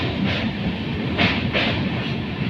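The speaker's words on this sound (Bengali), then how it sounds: "নসিপুর ব্রিজ হয়ে পৌঁছে গেছে আমাদের ট্রেন মুর্শিদাবাদ জংশনের দিকে" Sairang–Kolkata Express running on toward Murshidabad Junction after the Nasipur bridge, heard from inside as a loud continuous rolling rumble with periodic clacks of wheels over rail joints, no talk.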